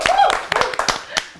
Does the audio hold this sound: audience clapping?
yes